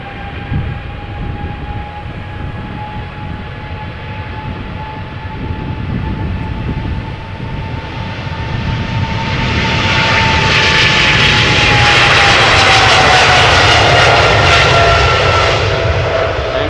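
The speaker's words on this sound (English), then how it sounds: "Emirates Sky Cargo flight 9956. It is a 777 freighter that is going to fly to Zaragoza. Spooling up right now." Emirates SkyCargo Boeing 777 freighter, nine years old, spooling its jet engines for takeoff on a flight to Zaragoza: a steady loud roar with a whining tone that swells and brightens into a broad rushing blast, no voices.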